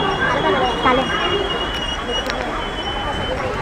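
A Mumbai local train rumbles along with steady wheel roar and faint high squeals of the rails, heard from inside the carriage with people chatting over it.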